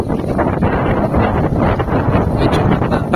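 Strong wind at Guimbal beach in Iloilo buffets the microphone in a loud, continuous roar with slight surges and no voices.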